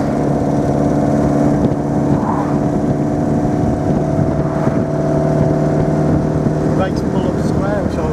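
A restored 1938 MG TA classic car driving along, its engine a steady loud drone with wind buffeting, recorded from inside the car with occasional faint sounds from the cabin.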